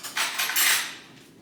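Metal spoon clatter against a small bowl during mayonnaise prep, a short burst of bright clinks over about a second that fades quickly, close and fairly quiet.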